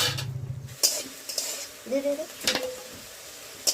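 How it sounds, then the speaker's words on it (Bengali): Salted fish, likely small puti, frying in oil in a wok over medium heat: a soft sizzle under repeated scraping stirs and the occasional clink of a utensil against the pan. "দুই মিনিটের মতন কুক করে নিলেই কিন্তু মাছ ভাজা হয়ে যাবে"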